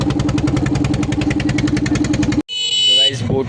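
A boat engine carrying passengers across a river on an island trip runs loud and close with a fast, steady throbbing beat, cuts out briefly, then a voice speaks over the renewed engine noise.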